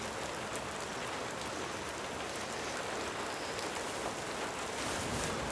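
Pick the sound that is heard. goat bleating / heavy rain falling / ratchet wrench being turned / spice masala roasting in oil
heavy rain falling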